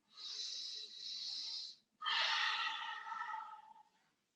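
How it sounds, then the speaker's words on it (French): A person exhales slowly during a chair yoga session, two soft, breathy out-breaths in a quiet room, the second slightly stronger. "On respire, on ne retient pas la respiration."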